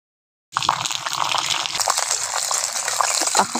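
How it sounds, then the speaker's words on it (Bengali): Raisins and cashews frying in hot mustard oil in a pan, a steady close sizzle that starts abruptly and holds with crackly spatter throughout. "কিশমিশ আর কাজুটা ভালো করে ভেজে নিয়েছি"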